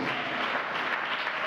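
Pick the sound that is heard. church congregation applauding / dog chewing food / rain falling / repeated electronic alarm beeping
church congregation applauding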